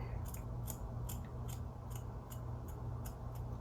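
Scissors snip steadily through hair during a self-trim of layers, about ten crisp, close cuts in an even rhythm over a low, constant background hum.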